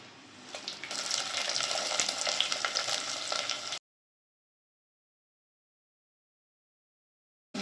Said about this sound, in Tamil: வெங்காயம் நல்லா வதக்கிடலாம்